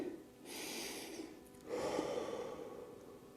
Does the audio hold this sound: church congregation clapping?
no